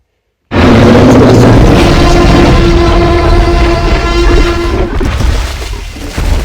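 A Spider Tank cannon in a Minecraft PE giants add-on fires with a sudden, very loud booming blast that sustains a harsh roar with a droning tone for about four seconds, then fades.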